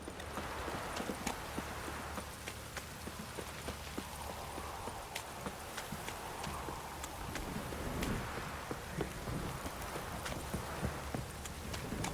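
Horse hooves clip-clopping in The Witcher 3, a steady walking rhythm of hoofbeats alone at moderate distance, quiet but continuous over a soft rainy background.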